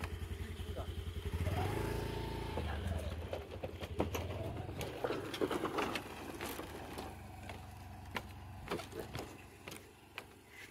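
A scooter ridden over a bamboo bridge, the engine hum joined by a rattling clatter of loose slats beneath the wheels, close and fairly loud at first, then thinning into scattered knocks.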